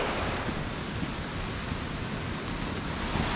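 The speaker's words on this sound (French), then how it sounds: "on entend la belle petite cascade qui coule juste en bas" A small mountain waterfall runs just below a hiking trail, a steady broadband rush of water with no break or voices.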